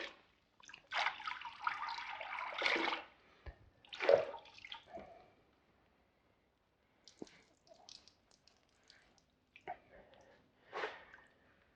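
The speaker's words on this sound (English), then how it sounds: "I got a bucket here, ONR and the big red sponge, and I'm just going to run it down the side here" A big red sponge soaked in Optimum No Rinse wash is drawn along the side of a car, giving wet squishing and wiping swishes in several separate strokes, with quiet gaps and dribbles between them.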